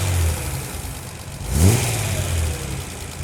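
A 1971 Datsun 240Z's engine cranks and catches partway through, then settles into a smooth, steady running note heard close by.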